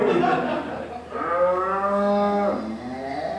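A cow gives one long, loud moo that rises and holds before trailing off, heard close and clear with a soft rumble behind it.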